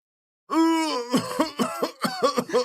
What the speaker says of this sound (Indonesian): kakek buyut jangan batuk lagi